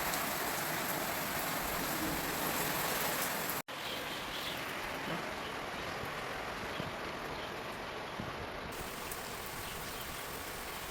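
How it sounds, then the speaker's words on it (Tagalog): Steady rain falls in a garden with a filled swimming pool nearby, a dense, even hiss heard alone, broken once by a brief cut partway through. "Ulan gihapon."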